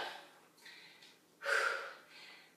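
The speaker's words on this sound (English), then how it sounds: "Deep breath." During a bodyweight workout, a person breathes heavily in a few forceful, close breaths, one louder gasping exhale standing out, with no speech.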